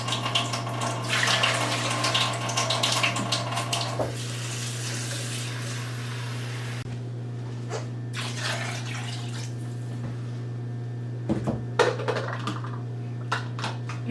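Water running from a tap splashes steadily into a blender jar for several seconds, then cuts off, leaving a low hum with a few faint knocks and drips.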